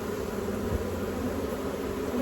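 Honey bees shaken loose from hive frames into a new box fitted with a queen excluder make a steady, dense buzzing drone that holds evenly throughout, with no voices.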